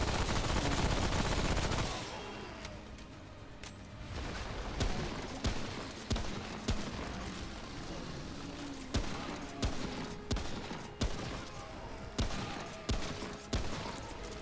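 Enemy gunfire in a video game, a steady run of sharp shots and bursts at irregular intervals following a loud roaring opening, with faint voices now and then.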